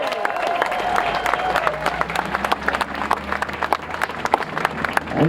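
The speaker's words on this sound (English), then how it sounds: "Let's give him a big applause" Audience applause at a talk about coal, a dense burst of many hands clapping with scattered crowd noise and a few sharp individual claps, steady and fairly loud throughout.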